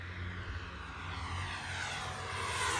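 An FMS Integral 80mm electric ducted-fan RC jet flies at full throttle, a loud, steady whooshing whine that builds slightly in intensity as the plane passes at close range.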